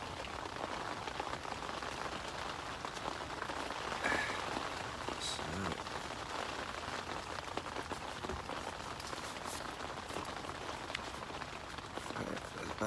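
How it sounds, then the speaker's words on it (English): Steady rain drumming on a fishing bivvy during an autumn carp session, a dense close patter with scattered heavier drops and faint rustling movement underneath. "the rain's coming down on the bivvy."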